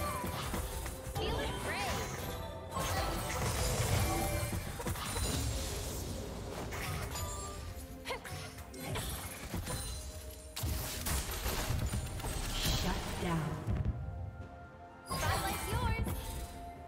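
Turret destruction in a League of Legends match: dense crashes, smashes and explosive impacts pile up in a busy fight, with sharp hits and whooshes throughout and a final burst near the end.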